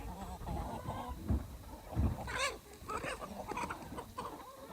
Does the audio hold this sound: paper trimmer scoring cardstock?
no